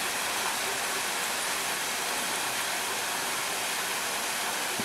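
Steady broadband rush of a waterfall feeding a pool in a tropical hotel garden on Barbados, continuous and fairly close, with no voices.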